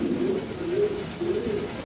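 A black male short-face pigeon coos in three rolling, throaty phrases close by, loud and clear, ending abruptly.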